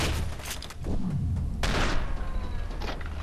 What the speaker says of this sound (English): Ooh, shotgun. I like the shotgun in this game.